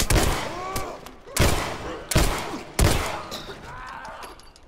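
Gunfire in the video game The Last of Us, a snowy level: three loud, sharp gunshot bursts spaced about a second and a half apart, each trailing into echo, with faint speech in the background.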